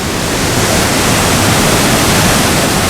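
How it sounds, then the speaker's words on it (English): Powerful waterfall at Bushkill Falls, Pennsylvania, roaring as a loud, steady broadband wash of falling water close by, unbroken for the whole stretch with no voices. "That's a powerful waterfall."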